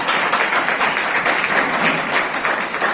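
Steady applause from an audience at a vocational school graduation ceremony, honouring a former ceramics student, a continuous even patter of many hands clapping, moderately loud and unbroken throughout.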